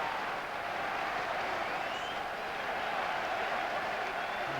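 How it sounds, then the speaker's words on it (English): Football fans in one corner of the ground at Arsenal's Highbury applaud Dennis Bergkamp during the 1999 match against Leicester City, a steady distant wash of clapping and crowd noise throughout. "the fans in that corner of the ground rise to applaud Dennis Bergkamp"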